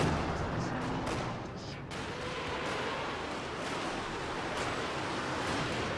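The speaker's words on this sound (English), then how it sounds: "Okay, we've got Katyusha rockets coming in." Katyusha rocket barrage striking in the Company of Heroes 2 real-time strategy game, a dense continuous roar of distant explosions and rumbling impacts, loud and sustained throughout.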